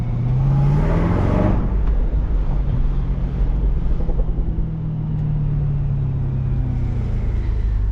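Supercharged Cadillac CTS-V accelerating on a midday drive, heard from inside the cabin as a loud, steady engine drone with a faint rising whine under constant road and wind rush.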